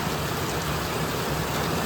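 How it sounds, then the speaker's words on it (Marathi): Heavy rain falls in the Konkan countryside as a dense, unbroken wash of noise, steady and loud with no voices over it. "अतिशय असं पाऊस लागत आहे"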